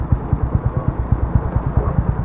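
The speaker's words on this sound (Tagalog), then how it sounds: "So, tinutono lang ni idolo yung motor niya." Skygo 175 motorcycle engine idling rough and revving while being tuned: a close, low, pulsing rumble with fast, uneven firing beats and small surges in loudness, with no voices.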